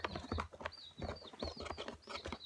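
High, thin chirps repeat in quick bursts over clattering and rustling noise, faint and somewhat distant.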